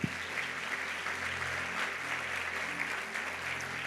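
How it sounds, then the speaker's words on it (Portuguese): A church seminar congregation applauds, a steady, fairly faint patter of clapping from a crowd over a low hum of amplified room tone, with a brief knock at the very start. "Você pode dar um aplauso a ele?"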